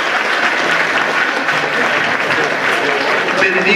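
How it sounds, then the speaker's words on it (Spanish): A church congregation at a Hispanic charismatic congress applauds loudly and steadily, a dense wash of many hands clapping throughout. "un aplauso al Señor por este gran instrumento que el Señor nos"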